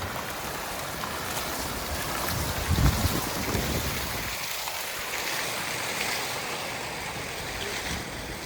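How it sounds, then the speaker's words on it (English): Dancing fountains in Blagoevgrad city centre, a constant soft rush and patter of falling water spread evenly through the scene, fairly distant and steady with a slight swell partway through. "Very cool dancing fountains here in the city"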